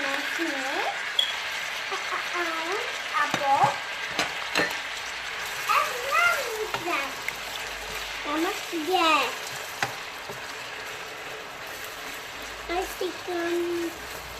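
Three large chopped onions frying in a pan for an okra and onion curry, a soft steady sizzle with occasional stirring clinks, heard under a person talking throughout.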